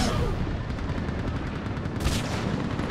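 Heavy game gunfire and explosive blasts from Mass Effect 3 during a siege battle, loud and continuous with rapid overlapping shots and a bright crack near the end.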